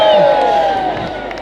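A Westmeath crowd cheers and whoops at Shane Lowry's homecoming celebration with the Claret Jug, a loud sustained roar of voices that fades slightly toward the end.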